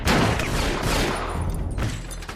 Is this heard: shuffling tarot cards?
no